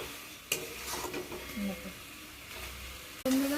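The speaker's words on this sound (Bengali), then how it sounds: "দেখো ভালো করে কষিয়ে নিচ্ছি" Gravy sautéing in oil in a pan, a soft continuous sizzle with intermittent scraping and clinking of a spoon stirring against metal, while a voice talks over it.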